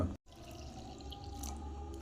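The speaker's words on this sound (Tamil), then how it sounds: "இப்போ நான் தண்ணியை சேர்க்க போகிறேன்" Water poured into a jug of muskmelon nannari sharbat juice, a short splashing trickle heard close up, briefly interrupted, with no talking.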